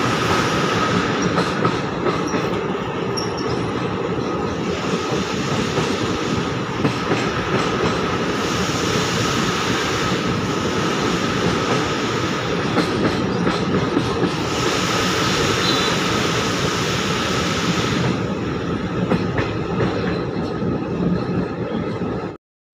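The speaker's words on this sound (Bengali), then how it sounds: "তার পাশে দিয়েই আমাদের ট্রেন ছুটে চলেছে মালদা টাউন স্টেশনের দিকে" The Digha–Malda Town special train runs steadily for a long stretch, heard from on board as a loud, continuous rumble with rhythmic wheel clatter and occasional squeals, without any talk.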